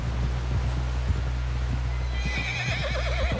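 A horse in Red Dead Redemption 2 galloping, with a steady stream of hooves and hoof clatter over a constant low rumble, joined by a loud neigh near the end, with no talking.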